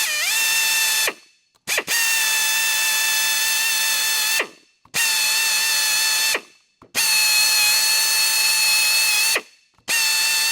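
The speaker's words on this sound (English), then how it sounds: "hub tool that I use to help clean up in this area around all these studs" A power drill spins a hub cleaning tool around the studs of a 6.0 turbo, whining loud and steady in four long bursts with brief pauses between, pitch rising as each run starts.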